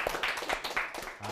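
Audience members clapping at a lecture show, a brief burst of scattered claps that stays fairly quiet and ends after just over a second.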